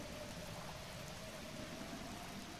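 In-game rainfall from Zelda: Breath of the Wild makes a quiet, constant wash of drops with no speech, holding an even level across the whole stretch.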